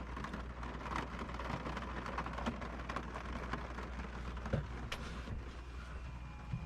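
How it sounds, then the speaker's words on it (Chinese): Rain falls steadily outside at a misty mountain campsite, a soft, continuous hiss with scattered drops tapping nearby surfaces, faint and even throughout with no voices. "外边也开始下雨了，听一听啊，雨声。"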